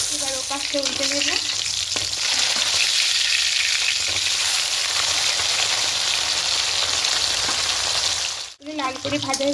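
Flipped fish pieces fry in hot oil with a loud, continuous sizzle and stirring noise. The sound dips briefly near the end before a voice speaks over the frying.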